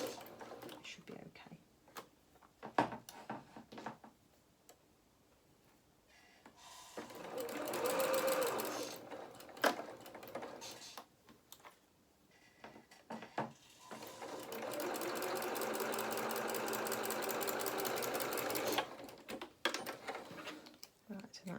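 A sewing machine stitches a seam on a small winter skating coat, running in two sustained bursts of rapid, even clatter separated by quieter pauses, with a person talking in between.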